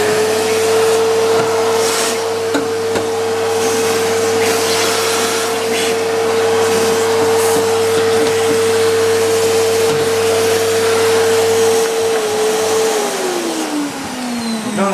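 A vacuum cleaner runs loudly and steadily, dusting the inside of an HP dc7700 desktop computer, its motor hum holding one pitch before dropping slightly near the end.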